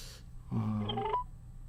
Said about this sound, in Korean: 전화를 드리겠습니다.